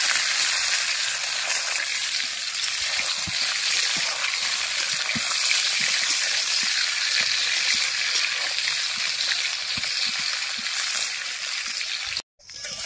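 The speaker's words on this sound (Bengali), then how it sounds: "এবার ম্যারিনেট করে রাখা পটল তেলের উপরে দিয়ে দেব।" Marinated pointed gourd pieces fry in hot oil in a wok, giving a steady, loud broadband sizzle that holds for about twelve seconds. A few soft clinks sound under it, and there is a brief dropout near the end.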